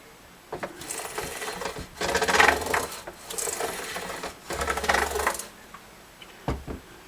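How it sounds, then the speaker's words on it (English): Sandpaper rubs across the frets of a guitar neck in several back-and-forth strokes, close and raspy, with short bursts of scraping separated by quieter pauses and a few light knocks. "this sandpaper is hitting every fret all the way across every fret."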